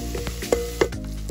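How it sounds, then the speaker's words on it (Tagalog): Food is stirred as it fries in a pan for chicken liver adobo, a dense close sizzle with two brief scraping knocks of the utensil. "Haluin lang ito hanggang sa maging golden brown."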